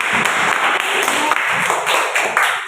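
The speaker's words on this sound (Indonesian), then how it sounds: "tepuk tangan untuk kelompok" A class of students applauds a group after its presentation in a classroom lesson, a dense, steady clapping that fills the short stretch at close range.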